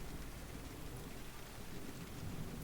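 Steady, dense rain beats against large windows while low, rolling thunder rumbles underneath, a continuous soft wash of storm sound with no voices.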